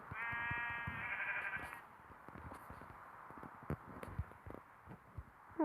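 A sheep in the video game Mini World bleats once in a short, buzzy cry near the start, followed by quiet clicks and soft footstep-like taps.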